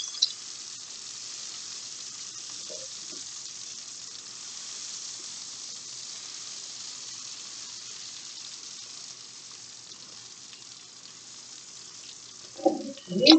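Idaho potato fries frying in hot oil give a steady, quiet sizzle that holds throughout, with a couple of brief clinks and a louder bump near the end.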